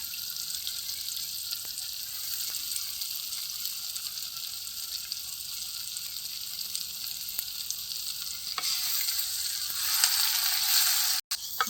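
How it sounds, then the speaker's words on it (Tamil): Spinach and onion sauté in hot oil in a pan, giving a steady, close sizzle that runs the whole time with a few faint clinks and no talking. "வெங்காயம் வதங்கிட்டு இதில் நம்ம கீரை போட்டுக்கலாம்."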